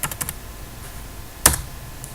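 Short bursts of computer keyboard typing as a command is entered in a Linux terminal, a few quick clustered keystrokes at the start, then a single louder key press near the end, close and alone with no talk.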